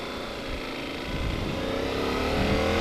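A 2023 Yamaha Super Tenere 1200 motorcycle engine hums steadily at around 50 mph on an open road, loud and close, with the engine note rising slightly as it rides along under rushing wind.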